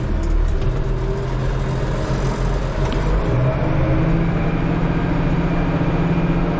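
Tractor engine pulling a sweet corn planter slowly down a garden row, a steady loud low rumble running throughout with no talk.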